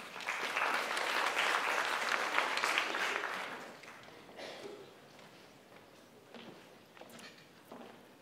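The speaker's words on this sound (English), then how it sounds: "Please join me in welcoming Geoff Munns." A conference audience at a national summit on student engagement applauds to welcome a speaker, with loud sustained clapping that tapers off after about four seconds into scattered claps and shuffling.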